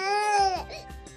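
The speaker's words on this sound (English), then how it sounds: "crying," A baby cries in one long, loud wail that breaks into a few shorter, choppy sobs, heard up close.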